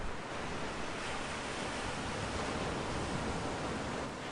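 Ocean surf rolls onto a beach on Havelock Island in the Andaman Islands, a loud, continuous roar of breaking waves with wind buffeting the microphone.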